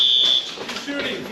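A fire alarm blares a loud, piercing electronic tone for under half a second in a smoke-filled hallway during a police active-shooter training drill, then cuts out into echoing room noise.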